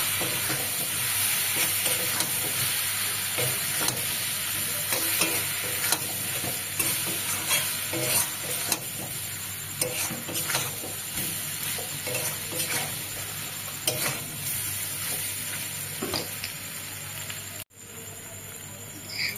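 Prawn and pointed gourd curry is stirred in a pan over a steady bed of sizzling frying, with scraping and utensil clicks throughout and a brief break near the end; no one speaks.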